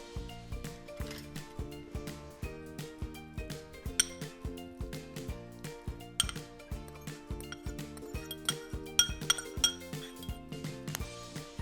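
A bowl and dishes clink and clatter in a kitchen while tuna is added for a tuna sandwich, with many close, irregular clinks and taps running steadily throughout and no talking.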